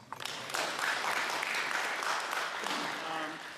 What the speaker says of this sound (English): How about a round of applause for Russ?